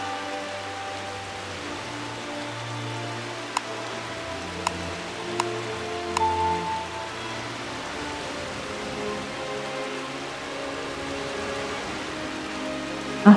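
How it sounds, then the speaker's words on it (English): Steady rainfall in a video game's rainy weather, a soft continuous wash of patter at moderate level with a few faint clicks partway through and no voices. "Rainy weather."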